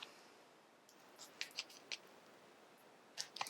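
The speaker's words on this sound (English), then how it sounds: "I'm just going to use my manicure scissors to cut this in 2." Small manicure scissors snip a semi-cured nail sticker strip in a few quick, crisp clicks, two clustered in the middle and a pair near the end, close and quiet against a soft hiss.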